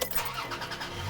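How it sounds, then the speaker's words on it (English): Toyota Tacoma engine cranking over and catching, a short steady mid-pitched rumble heard up close with no talk. "Turn the car on"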